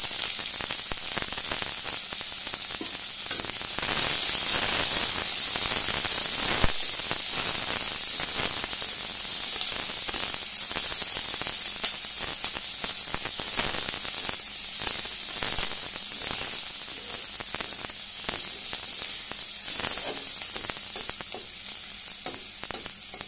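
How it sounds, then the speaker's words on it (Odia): Small-chopped onions with a dried chili sizzle in a pan with a little oil, a steady bright hiss with crackling pops and occasional stirring scrapes, close and continuous. "ପିଆଜକୁ ଟିକେ ଭାଜିବା ପାଇଁ ଟାଇମ୍ ଦେବା।"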